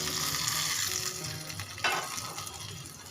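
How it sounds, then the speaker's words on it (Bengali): Kashmiri red chili powder hitting hot tadka oil meant for pakora kadhi, a close crackling sizzle that fades gradually, with a brief sharper burst midway, no voices. "এইবার এর মধ্যে দিয়ে দিলাম সামান্য কাশ্মীরি লাল লঙ্কার গুঁড়ো"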